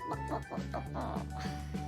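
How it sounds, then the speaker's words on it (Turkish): A chicken clucks in short repeated bursts, fairly close, with a steady low hum underneath. "Ah, tavuk."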